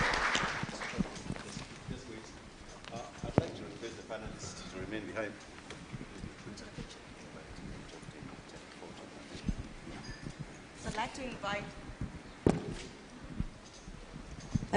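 An audience applauds a panel of speakers at the close of a discussion, a steady patter of many hands filling the room while a voice talks over it.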